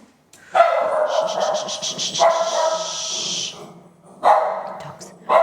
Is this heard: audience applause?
no